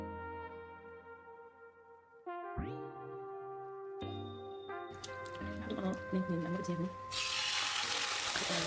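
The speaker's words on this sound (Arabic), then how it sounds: "وهلأ بدي بلش قلي اللحمة وحضر الخضرة" Steak frying in vegetable oil in a pan over high heat, a broad, steady sizzle that swells in the last seconds over sustained tonal background sound.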